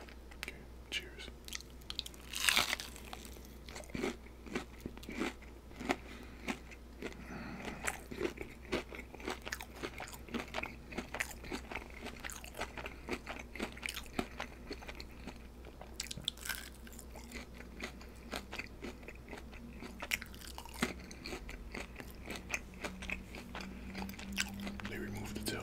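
Crunchy jumbo fried shrimp and fried calamari are bitten and chewed close to the microphone, with repeated sharp crunches and wet chewing over a long stretch and occasional soft talk.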